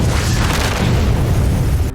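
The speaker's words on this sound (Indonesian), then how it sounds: "pesawat pengeboman yang secara sengaja menghancurkan rumah pertanian" A bomber plane's blast destroys a farmhouse in a wartime film: a loud, sustained low rumbling explosion that fills the whole clip and cuts off abruptly at the end.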